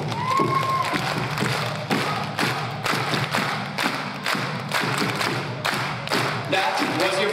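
A large audience at a cultural night performance claps in unison, a steady rhythmic beat of loud, sharp claps that repeats evenly throughout, with a faint crowd murmur underneath.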